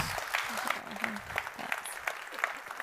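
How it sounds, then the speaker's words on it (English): Audience applause at a startup pitch event, a fairly steady wash of clapping throughout, moderately distant, with a speaking voice briefly over it. "Huge round of applause, please."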